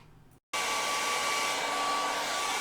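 Hair dryer switching on with a click and blowing steadily and loudly at close range to dry a Taj Mahal painting, a constant whooshing hum with a faint whine.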